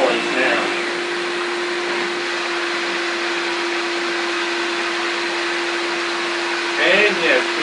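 Shop-Vac with a power head cleaning a floor, a steady loud whine with a constant tonal hum throughout, changing slightly at the start and end as the head moves.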